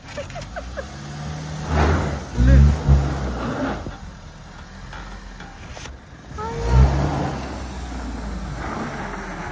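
A car stuck on an icy, snowy road revs its engine in two straining bursts of low rumble, with people talking over and between the revs.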